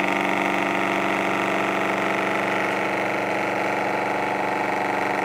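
A Bedini pulse motor runs with its coils wired in parallel, giving a steady, continuous whirring hum with a dense mechanical buzz that stays even and fairly loud throughout, with no voices.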